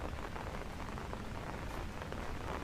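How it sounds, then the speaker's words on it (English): Steady rain falling during a morning hike over Hong Kong, a continuous soft hiss of drops close to the microphone at an even level throughout, with no talking. "Oh, rain."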